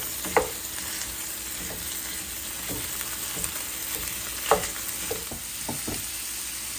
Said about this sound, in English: This is 80/20 ground beef that I am going to first get this all cooked through.